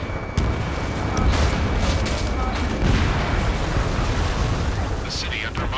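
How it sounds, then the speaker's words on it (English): Gunfire and roaring jets in the Ace Combat 7 war game as a city lies under martial law, a dense, continuous rumble of booms and bursts filling the streets at steady loudness, with a voice briefly audible over the din. "Gunfire and the roar of jets echoing through the streets."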